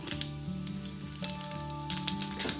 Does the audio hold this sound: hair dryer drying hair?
no